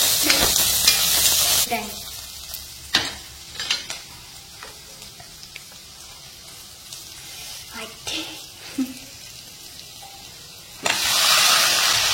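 Chopped onions sizzle loudly in a little hot oil for homemade Maggi noodles, a steady crackling fry broken by a utensil stirring and scraping the pan, with brief voices in the background.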